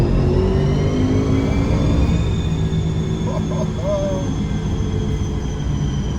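A tuned Audi RS7 accelerates hard, its engine note a steady, rising drone from inside the car, with faint voices over it.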